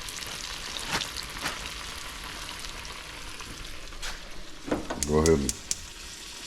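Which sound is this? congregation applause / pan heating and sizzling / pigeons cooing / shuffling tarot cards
pan heating and sizzling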